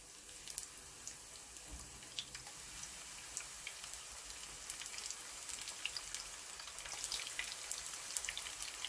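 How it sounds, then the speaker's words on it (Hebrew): Matzo pieces frying in hot oil about a centimetre deep, a steady soft crackle and sizzle with fine scattered pops, close but quiet, and no talking. "מטגנת עד שהם קריספים."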